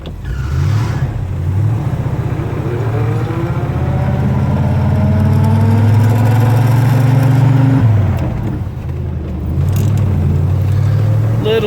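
A 1978 Ford F150 truck drives along, its steady engine drone rising in pitch, briefly dropping at a gear change with slight chatter as second engages, then climbing again, loud and close.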